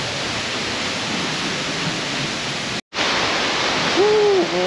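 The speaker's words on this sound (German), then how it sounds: "Das ist ein ganz berühmter Wasserfall, weil da kann man nämlich dahinter durchlaufen." A famous waterfall in Iceland, one a person can walk behind, roars as a steady broadband wash, loud and close, broken by a brief cut partway through, with a faint tonal hoot or whistle near the end.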